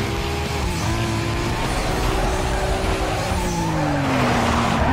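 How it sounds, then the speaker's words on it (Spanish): A Nissan drifting in Need for Speed Most Wanted, with engine drone and sustained tire squeal sliding in pitch over steady roaring noise, loud and close throughout with no talk. "También derrapa de una forma muy, pero muy chida."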